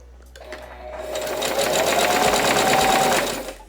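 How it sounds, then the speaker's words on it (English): A sewing machine runs a straight stitch along a corset, its fast, even whirring building up quickly and holding steady and loud for about three seconds before easing off. "now I am just stitching it with a straight stitch"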